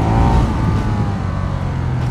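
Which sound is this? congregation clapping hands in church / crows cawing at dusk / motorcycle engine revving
motorcycle engine revving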